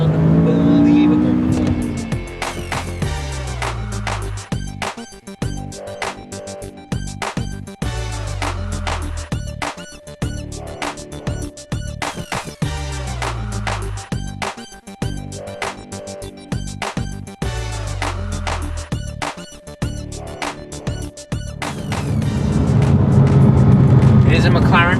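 A 2016 McLaren 570S engine surging hard through a launch-control start, with repeated rises in revs and quick upshifts, loud and close from inside the cabin. A driver talks over it.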